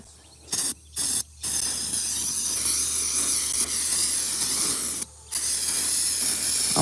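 Brake cleaner hisses from an aerosol can in several close, loud bursts, with short pauses between the first few sprays and then a long continuous spray broken by one brief stop.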